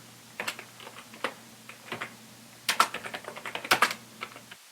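Computer keyboard typing, close and clear, with bursts of rapid key clicks separated by short pauses and a faint electrical hum underneath.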